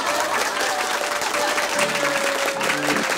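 An audience at a folksy Brazilian storytelling show bursts into steady applause for a performer, thick and continuous, with a faint tonal hum lingering underneath.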